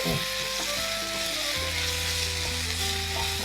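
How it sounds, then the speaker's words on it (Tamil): Garlic sizzles and sautés in a pan for crab curry with a dense, steady frying hiss, with a few soft stirring knocks over it and a low tonal hum under it, close and continuous. "பூண்டையும் சேர்த்தாச்சு நல்லா இதையும் வதக்கி கொடுத்துட்டு"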